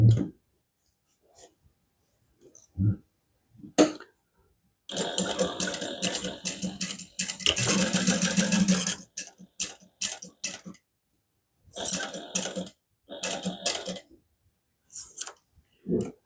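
A sewing machine stitches a seam on a harmonica hobo bag, crossing a bulky seam with the help of a hump jumper. Its motor whirs in several short runs, with quiet clicks and pauses in between and no talking.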